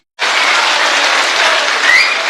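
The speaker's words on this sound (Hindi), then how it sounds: "तो मैं चाहता हूं एक बार जोरदार तालियों से आप अपनी मौजूदगी दर्ज कराइए" Loud, dense applause from an audience at a Hindi-Urdu poetry recital starts abruptly and continues as a steady wash of clapping, close and sustained, with no voice over it.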